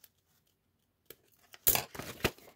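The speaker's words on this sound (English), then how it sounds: "use my scissors to actually make it decorative" Scissors snipping a decorative edge into an old paper atlas page while wrapping a Christmas gift, a few crisp paper cuts and tearing crackles close by after a quiet start.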